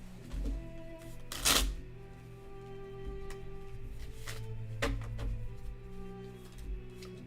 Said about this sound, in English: I'm going to throw one card down and see what happens